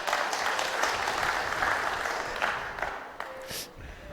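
Audience applause at a World Cup three-cushion billiards final, a sustained crowd clapping heard from some distance, moderately loud, thinning out toward the end as a commentator's voice comes in faintly.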